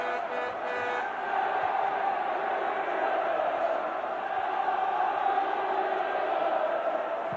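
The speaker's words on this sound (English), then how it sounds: "Home crowd lifted for the first time" A home crowd roars at a 1994 FA Cup fourth round football match between Norwich City and Manchester United, a dense, steady wall of cheering that swells slightly after the first second and holds loud throughout.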